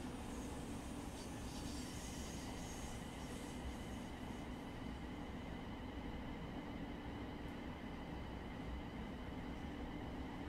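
A Voyager diesel train in Train Sim World 3 rumbles past with a loud, steady roar and rail rattle throughout, no talk over it.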